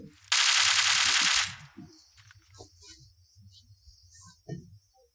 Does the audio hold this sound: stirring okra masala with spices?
no